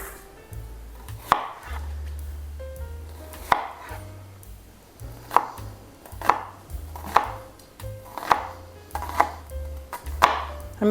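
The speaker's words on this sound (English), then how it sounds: "So it says 1 small yellow onion, finely diced." A knife chops a small yellow onion on a cutting board with about a dozen sharp, close strikes at an uneven, unhurried pace, a low hum underneath.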